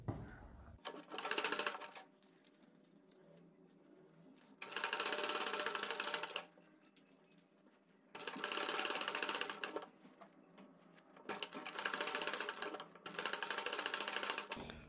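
A sewing machine stitches piping along a kurti neckline in bursts: four to five runs of steady, fast whirring, each a couple of seconds long, with quieter pauses between them and no talk.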